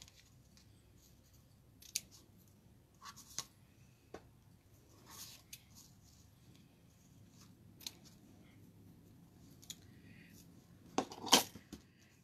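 Scissors snip ribbon tails on a handmade card, a handful of quiet, scattered crisp cuts spread out over several seconds in a hushed room, with one sharper, louder snip near the end.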